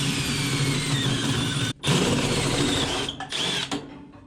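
A power drill with a hole saw whines steadily, cutting through material with a grinding buzz, briefly pausing once before running on and then winding down near the end.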